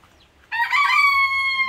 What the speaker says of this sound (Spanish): Ay, el gallo.